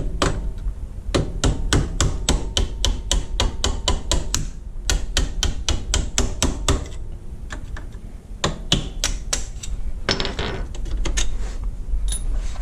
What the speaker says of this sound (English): looks like I'm gonna have to peck these out with a screwdriver